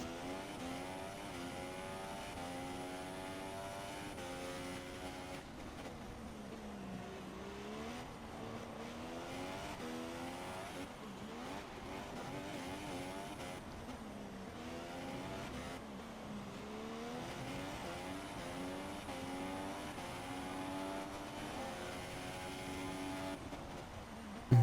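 Onboard Formula 1 race car engine at a steady high-pitched whine, shifting up and down through gears as it laps, continuous and fairly faint with no voices.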